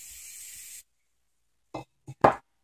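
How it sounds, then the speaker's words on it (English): An aerosol spray paint can sprays blue paint in a short, close hiss lasting under a second. After a brief silence come a few light knocks and taps. "I'm going to spray some blue here off on the side."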